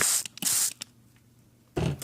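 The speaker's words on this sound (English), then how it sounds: "Actually, I like to spray it before I cover it" A handheld spray bottle misting freshly sown yard-long Chinese bean seeds in a winter-sowing container: two quick close hissing bursts, a quiet pause, then a third spray.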